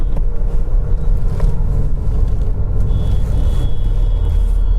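Steady road traffic on the Delhi-Meerut Expressway, a continuous low rumble of cars and heavier vehicles passing close by, with no talk.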